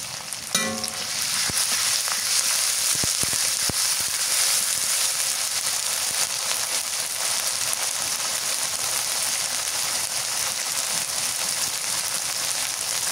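Onion and garlic paste with a little cumin paste fries in a pan: a loud, steady, continuous sizzle with a brief clatter at the start and no talking.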